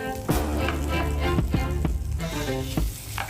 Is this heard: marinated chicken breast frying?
yes